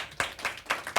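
A small studio audience gives applause, a few sparse, distinct claps in quick succession, close and fairly faint.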